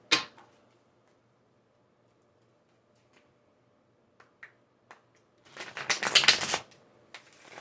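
Tarot cards shuffled by hand in a quiet room, heard as a dense burst of riffling near the end after a few faint taps and clicks, with no talking.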